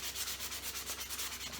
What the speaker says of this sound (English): got my little sander out here, my little sanding block, and I just sanded this down a little bit